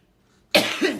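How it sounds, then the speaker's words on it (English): A single short cough bursts out after a moment of quiet, sharp at the onset and trailing off with a brief second pulse. "sort of cough"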